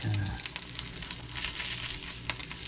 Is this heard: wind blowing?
no